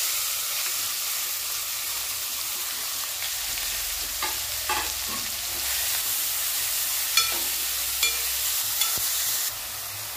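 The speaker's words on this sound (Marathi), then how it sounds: "खडे मसाले थोडेसे भाजले ना की हे 4 मोठे कांदे मी बारीक एकदम बारीक चिरून घेतलेले आहेत, ते टाकून घ्यायचे" Finely chopped onions fry with whole spices, an even sizzling hiss with a few stirring knocks near the end, close and fairly loud.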